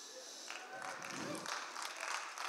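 An auditorium audience claps briefly, a short soft patter of applause from a crowd lasting only a couple of seconds, with no talk over it.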